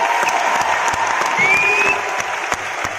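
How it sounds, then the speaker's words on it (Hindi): An audience gives loud, sustained applause with a few sharp claps standing out, plus a faint whistle midway, filling the short moment without any talking. "मैं एक बार जोरदार तालियां चाहती हूँ"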